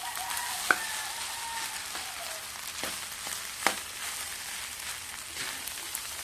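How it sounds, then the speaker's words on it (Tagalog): Egg sizzles steadily in a pan while being stirred for fried rice, with a constant frying hiss broken by occasional sharp clicks of a utensil against the pan. "Na-mix talaga hanggang maluto yung itlog"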